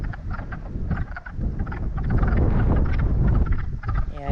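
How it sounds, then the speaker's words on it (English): A pond packed with countless frogs croaking loudly and continuously, overlapping rough calls forming a dense, close chorus with no talking. "I can't even count how many frogs are in here"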